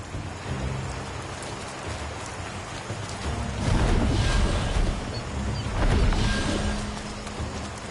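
Rain pours steadily in the fantasy game Throne and Liberty, a dense hiss with low rumbling swells of thunder building twice, no voices.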